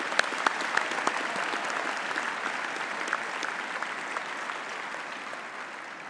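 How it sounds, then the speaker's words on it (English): Sustained audience applause at a university autumn graduation ceremony, a dense, even wash of clapping hands from a large crowd that holds steady for several seconds with scattered sharper claps standing out. "I think we can give a Dean a hand of applause."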